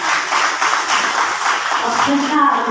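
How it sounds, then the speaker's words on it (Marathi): A theatre audience claps at a stage performance, a dense, steady patter of many hands that rises slightly near the end, with a voice heard through it. "तेव्हा त्यांच्यासाठी एकदा परत जोरदार टाळ्या."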